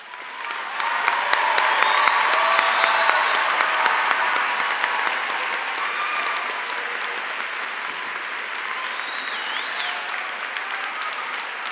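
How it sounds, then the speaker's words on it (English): Sustained applause at a high school commencement honoring graduates enlisting in the military, a broad crowd roar of clapping with faint cheers that swells early then settles into a long, steady wash. "please stand and be recognized with a round of applause"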